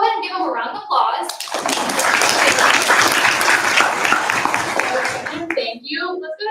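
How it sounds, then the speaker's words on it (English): A crowd at a hackathon opening ceremony breaks into sustained applause for the event's sponsors, a loud, dense wave of clapping lasting several seconds, with a speaker talking just before and after it. "So let's go ahead and give them a round of applause."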